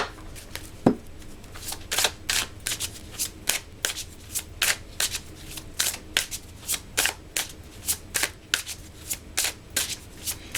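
Oracle cards are shuffled for a reading, a rapid series of crisp riffling bursts at a steady, uneven rhythm, close and clear with no talking.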